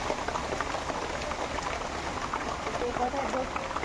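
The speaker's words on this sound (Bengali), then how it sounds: "এত বৃষ্টি পড়ছে" Heavy storm rain pours down steadily on a roof with broken tiles, a dense continuous hiss, while a person speaks throughout.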